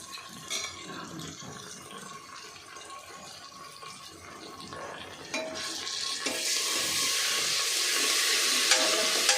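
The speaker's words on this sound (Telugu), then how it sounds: "అల్లం పేస్ట్ దీంట్లో వేయాలి." Ginger paste dropped into hot oil in a pan for mutton curry: stirring scrapes, then a loud, steady close sizzle that swells and keeps going with no talk.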